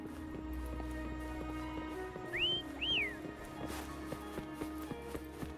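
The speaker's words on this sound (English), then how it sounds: "Why don't you call Foam over? Try whistling." Two rising and falling whistle calls summon the mount Foam in the game Wuthering Waves, heard clearly over plodding hoof clops and soft ambient music.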